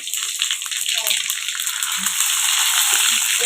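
Cinnamon bark dropped into hot oil for a mushroom gravy, a loud bright crackling sizzle that holds steady up close, with faint clinks of a utensil.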